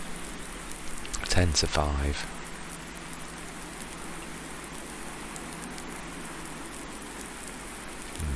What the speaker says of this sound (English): This rained all day.